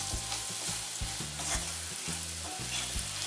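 Salt is stirred into an amla (Indian gooseberry) pickle mixture in a hot pan, giving a steady sizzle with rhythmic scraping strokes about every half second, close and continuous, with no talking.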